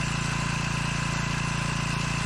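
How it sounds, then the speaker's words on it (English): Small outboard boat engine catching as the last fuel clears its carburetor, a loud, close, steady mechanical drone with a fast even pulsing throughout and no voices. "You can hear the engine starting to go now."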